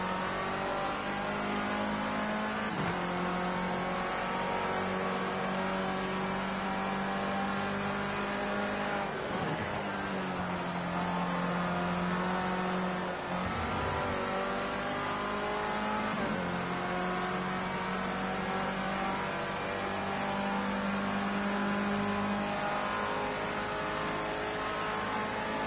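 Formula C race car engine in Project Cars 2, a loud sustained near engine drone that rises and drops with gear changes and braking during racing laps.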